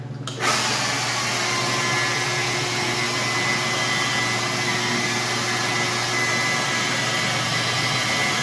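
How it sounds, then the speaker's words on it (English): A buffing machine polishes car clearcoat with cutting compound, its motor starting abruptly and then whirring steadily and loudly with a constant hum and no talk over it. "I'm holding the buffing pad flat on the surface."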